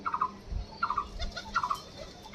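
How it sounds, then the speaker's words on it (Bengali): Adult Giribaz pigeons in a cage give repeated short cooing bursts, about four rolling calls at a steady pace, with faint low thumps and shuffling in between. "এই যে সব ধাড়ি পায়রা"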